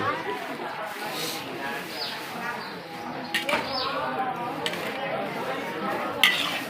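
Coconut milk filling for khanom thian is stir-fried in a pan over low heat, with metal spatula scrapes and clinks running steadily under continuous chatter and talk at a busy gathering.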